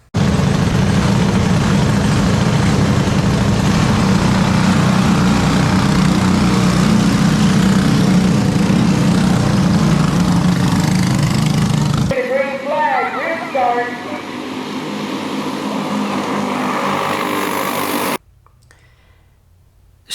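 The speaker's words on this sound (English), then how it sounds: "it comes alive, with kart racing at the original Speedway Park" Racing karts at Speedway Park in Fruitland Park, Florida, give a loud, steady, buzzing engine drone that shifts partway through and then cuts off abruptly near the end.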